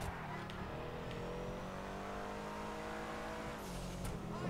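A customized 4x4 drives at speed on a road, its engine and tire roar steady and loud throughout with a slight rise in revs near the end, and no voices over it.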